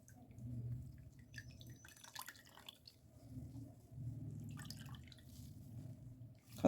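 Liquid drips and trickles from licorice root squeezed by hand after repeated dipping in water while making a Ramadan licorice drink, with a couple of brief louder splashing bursts over a low steady background.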